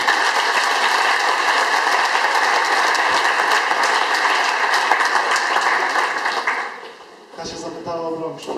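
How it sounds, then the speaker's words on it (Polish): An audience applauds for brave participants, a dense, even clapping that holds steady, then fades as a voice begins speaking at the end. "Oklaski dla naszych odważnych."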